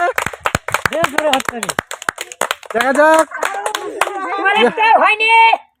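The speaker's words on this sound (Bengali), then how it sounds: "হাততালি" Several sharp hand claps ring out close by during a ball-picking prize challenge game, scattered through the first seconds under excited talking, with voices continuing afterward.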